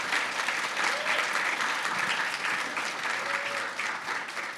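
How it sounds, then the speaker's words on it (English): Audience applause at a panel discussion, a continuous wash of many people clapping together at moderate volume for about five seconds, without pause or speech. "Can we start with a round of applause for everyone?"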